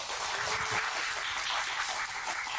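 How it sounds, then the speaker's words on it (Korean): A crowd at a 2022 science festival lecture welcomes a government minister to the stage with steady, hissing applause, heard faint and distant as a continuous wash of clapping. "뜨거운 박수로 이정호 장관님을 무대로"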